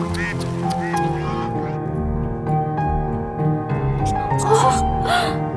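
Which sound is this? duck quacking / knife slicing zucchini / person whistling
duck quacking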